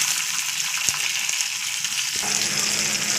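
Tomatoes sizzling in hot oil with garlic and dried chilli, a steady close crackling hiss running throughout with a couple of sharp bursts, no voices.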